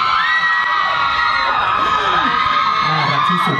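High-pitched screaming and shrieking from an excited crowd of fans at a beauty product launch event, loud and sustained, with overlapping voices rising and falling.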